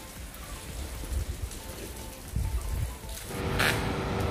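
Light evening drizzle heard from a veranda in Faro, Portugal, a steady soft patter of rain with a faint background hiss, continuous and even throughout.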